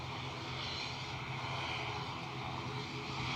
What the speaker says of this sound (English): So this ATR off to Dublin.